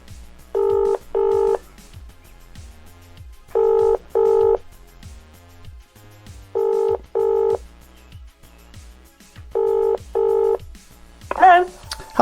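Touch-tone telephone dialing with DTMF beeps in four groups of two evenly spaced tones, loud and close, separated by pauses, with a low hum underneath and a brief crackle at the end.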